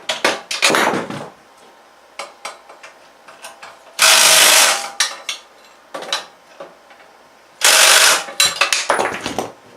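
A ratchet tightens bolts on a Predator 212 engine during an oil change, with loud bursts of rapid clicking separated by short pauses and scattered single metallic clicks and taps.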